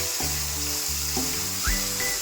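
Onion, garlic, green chili, tomato and bay leaf sizzle loudly in hot tempering oil for a chicken curry, a steady hiss broken by a few stirring bursts.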